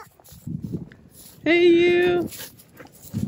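Dog on a wildfire-area hiking trail, with one loud, sustained whine or howl-like vocal lasting under a second, set among nearby human talk and footsteps.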